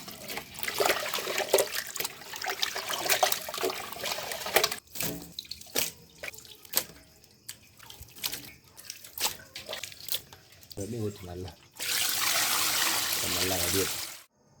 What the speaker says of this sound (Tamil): மஞ்சத்தூள் போட்டு சிக்கனை கழுவிக்கலாம்.